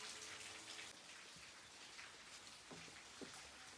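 Steady rain falling outdoors during the monsoon, a soft continuous hiss of drops with a few brief louder splashes near the end.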